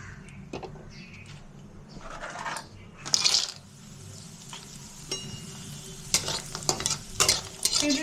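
Lentil dumplings (bori) frying in hot oil for a potato and papaya ghonto: a steady soft sizzle broken by scraping stirs and clinks of a spatula against the pan, with no talk.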